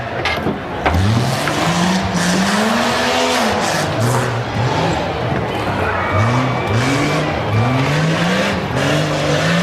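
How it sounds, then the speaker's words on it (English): Rough trucks race through a dirt-track hairpin turn, tires squealing in repeated rising and falling whines over loud engine revving, close and continuous. "Got a little bit of a squeal going on there"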